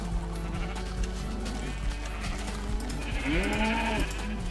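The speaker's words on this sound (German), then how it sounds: "Wir gucken nochmal bei den Schafen vorbei." Sheep bleating in Minecraft, several wavering calls clustered near the end over a steady low game hum, moderately close and unaccompanied by speech.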